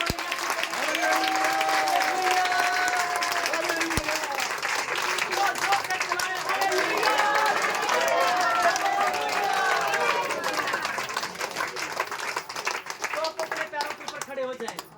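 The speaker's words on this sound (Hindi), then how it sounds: "तालियां बजाएं अपने आप के लिए।" Congregation applause and clapping at a Hindi Christian church sermon, dense and loud for the whole span, with cheering voices and speech mixed in, tapering slightly near the end.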